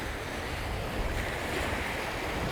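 Strong wind blows across a lakeside beach at Lake Havasu, Arizona, a loud steady rush with mixed wave-like wash and microphone buffeting, no voices.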